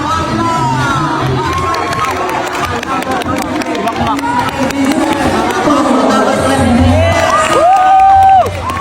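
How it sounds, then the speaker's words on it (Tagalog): A crowd at a sportsfest game cheers and shouts, with excited voices, whoops and children's shouting forming a loud, continuous hubbub. "Kaya ginalingan na namin pumalakpak."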